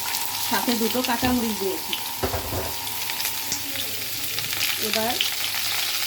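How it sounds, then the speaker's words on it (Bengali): Raw pumpkin pieces fry in oil with cumin and green chillies, a steady close sizzle running under a person talking throughout. "তো তেলে আমরা মিষ্টি কুমড়াগুলো দিয়ে দিব"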